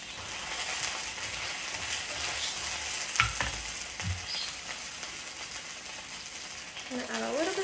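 A scallion pancake fries in a hot pan, giving a steady, close broadband sizzle throughout with a couple of brief clatters of a utensil, and a voice comes in briefly near the end.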